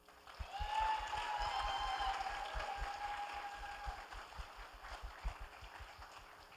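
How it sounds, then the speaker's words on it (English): Applause from a convention audience at an anime convention's opening ceremony, a steady wash of clapping that swells early and then slowly fades, with a few whistles, some cheering and a rhythmic low thumping underneath. "So big round of applause for David Bell, everybody."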